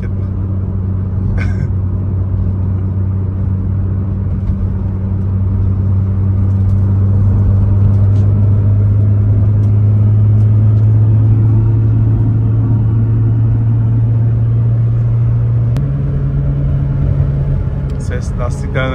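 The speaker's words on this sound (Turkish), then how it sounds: "Meselik lastikler olunca uuuu diye uğultu ses geliyor." Steady tire roar and low engine drone inside a moving Nissan Skyline R34 GT-R with a 900 hp build, a continuous hum that shifts pitch slightly, with faint clicks and no voices.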